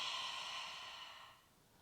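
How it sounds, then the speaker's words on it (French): A soft open-mouthed exhale pushed through the throat, like breathing onto glass to fog it during a yoga class, one long airy breath that fades gradually to quiet. "on va expirer avec la bouche comme si on voulait faire de la vapeur"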